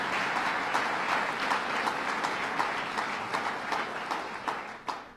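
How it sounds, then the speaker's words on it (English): A large crowd at a New York State budget signing event in Buffalo gives sustained, even applause, steady and fairly distant, fading slightly at the end with no speech over it. "Give him a big round of applause, Howard Zemsky."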